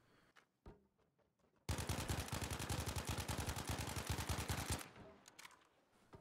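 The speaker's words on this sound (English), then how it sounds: "At this type of engagement distance, I always tap fire." Rapid gunfire from a weapon in the Battlefield V video game, a sustained loud burst of evenly spaced shots lasting about three seconds after a couple of isolated pops, then fading to faint distant sounds.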